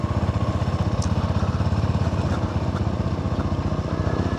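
Steady, rhythmic thump of a Sothassi 400 Classic motorcycle engine while riding, close and continuous with a low pulsing beat and no talk.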